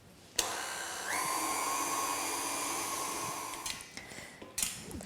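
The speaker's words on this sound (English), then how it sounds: "so don't step away from the mixer, and we're looking for it just to hold" Electric mixer whipping cream for a ruby chocolate roulade cake, a steady high motor whine that starts abruptly, runs for about three seconds, then winds down with a few clatters and no talking.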